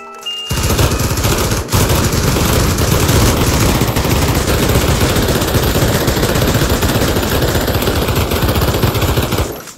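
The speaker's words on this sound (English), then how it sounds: "I love shooting their heads off." Sustained loud automatic gunfire in Pavlov VR zombie mode, a Nacht der Untoten setting, a dense continuous stream of rapid shots running almost the whole time with a brief break near the start, no talking.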